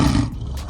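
A lion's deep, loud roar, used as a sound effect in a spoken story, fills a short burst on its own without any talking.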